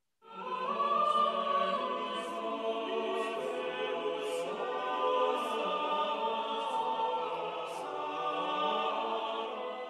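Palestrina's Sanctus from the Missa Ave Regina Coelorum sung as a canon, sustained vocal polyphony with overlapping imitative lines, steady and full throughout with no speech.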